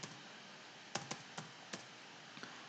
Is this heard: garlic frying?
no